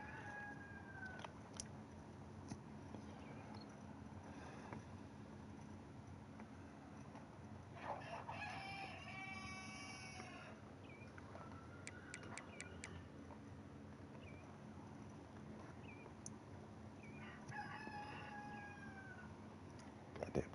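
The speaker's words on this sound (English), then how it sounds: "Goddamn chickens." Chickens cluck and crow in the background, with several faint, distant calls scattered across a quiet, hissy stretch.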